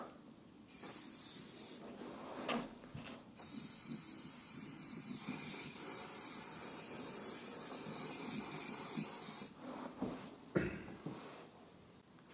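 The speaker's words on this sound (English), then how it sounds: "Let's give it a spray." A long, steady hiss of aerosol spray paint on masked metal, preceded by a few short bursts and followed by brief puffs with light handling noises.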